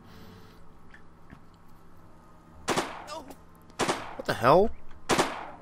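Gunshots in the tactical game Silent Storm: Sentinels ring out as a few separate sharp bursts in the second half, loud against a quiet background hum, with a brief startled voice between them.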